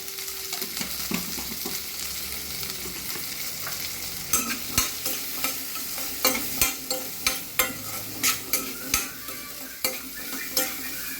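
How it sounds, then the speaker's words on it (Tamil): Onions sizzle steadily in a hot pan while a utensil stirs and scrapes in regular rhythmic strokes, close and clear, with no talking. "இந்த வெங்காயம் சீக்கிரம் வதக்கிறதுக்காக"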